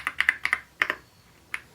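Crisp, clicky keystrokes on a custom AKS068PRO mechanical keyboard, a quick burst of close taps followed by a short pause and a few more isolated presses.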